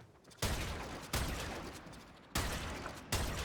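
Multi-shot weapon firing in a shooter video game, several loud, dense blasts in separate bursts, each starting sharply and fading into a noisy tail.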